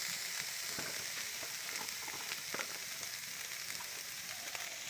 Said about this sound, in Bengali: বাস, আমার শাক ভাজা হয়ে গেছে